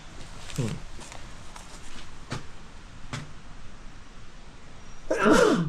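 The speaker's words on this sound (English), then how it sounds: "I've been sneezing for 3 days" A single loud sneeze erupts near the end, after several faint clicks and rustles in an otherwise quiet room.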